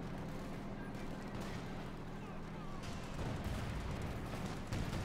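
Dense battlefield gunfire and artillery rumble from the real-time strategy game Company of Heroes 2 in a Wehrmacht versus British forces match, a continuous layered clatter with heavier booms building toward the end.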